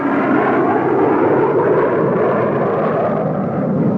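Military jet aircraft, including F-100 fighters, roar in low for a strafing attack during a joint Iranian-American exercise, a loud continuous broadband rumble that stays steady and dense throughout, with no voices.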